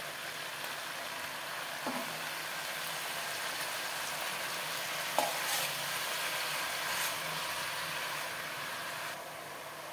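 Chopped malabar spinach fries with ridge gourd and spices in a pan, a steady close sizzle broken by occasional soft scrapes and knocks of stirring.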